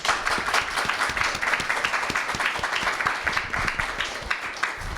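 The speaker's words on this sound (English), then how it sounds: "so we would like to give a big round of applause to Dr. French." Audience applause at a university panel on ethics and justice in the U.S. immigration system, a dense, steady clapping from a roomful of people lasting the full stretch at even loudness.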